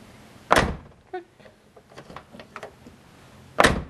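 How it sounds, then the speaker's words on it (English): A greased car door latch, treated with Fluid Film, closes with two sharp clicking thunks a few seconds apart, separated by faint light rattles and handling noises, fairly near and with no talking. "That's how doors are supposed to close."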